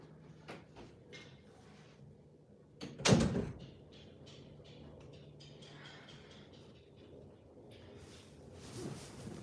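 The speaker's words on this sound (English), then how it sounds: "let me shut the door" An indoor door is pushed shut with a single loud thud about a third of the way in, set against a quiet room with faint scattered household sounds.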